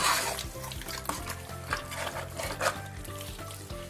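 Beef with black pepper being stirred and fried in a pot for bhuna gosht, a moderate sizzle broken by repeated spatula scrapes and knocks against the pan, with light music underneath and no speech.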